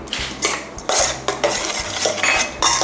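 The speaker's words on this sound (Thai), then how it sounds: "คนส่วนผสมให้เข้ากันนะคะ" A spoon scrapes and clinks around a bowl, stirring a Thai eggplant salad dressing of blanched minced pork, sugar, lime juice and fish sauce, in repeated close strokes with no talking.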